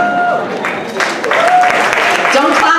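Crowd applause at a Pride celebration speech in Monterey, a burst of many hands clapping with scattered cheers, loud and building, mixed with some voices.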